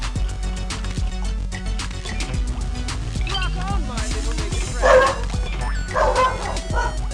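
A pet dog in the room barks and whimpers in short, repeated yips alongside game music and effects from BattleBlock Theater; moderately loud and near.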